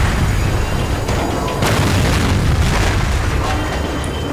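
A loud boom in the video game Max Payne 3, with a sharp blast near the middle that rolls into sustained dense rumble and crackle, loud and continuous throughout.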